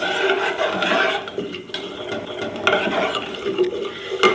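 Rice flour is stirred into a pan for seviyan kheer, with close, continuous scraping and rubbing of a spoon against the pot and faint sizzling underneath.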